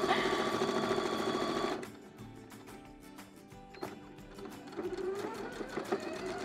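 A sewing machine runs at high speed while a cushion for a baby crib is sewn, a dense steady whir that stops abruptly, then starts again in short, uneven rattling bursts up close.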